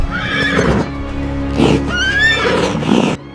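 A horse neighs loudly twice, each whinny a rising, quavering call with breathy snorts between, close and clear with no talk over it.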